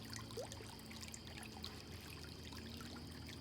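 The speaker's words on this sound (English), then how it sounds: "Look at that beautiful creek." Creek water trickles gently and continuously, sounding faint and distant, with no voices over it.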